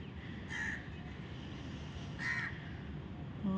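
Two distant caws from crows at Gurudwara Pul Pukhta Sahib, spaced a couple of seconds apart, over a low steady background hum.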